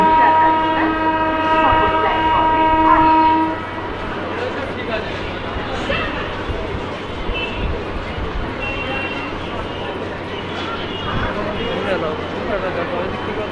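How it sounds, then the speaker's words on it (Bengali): A train departing Ranaghat Junction in Nadia district, heard from an overbridge as a continuous rumble with a horn blast at the start, under someone talking. "ট্রেনটি অলরেডি ছেড়ে দিয়েছে।"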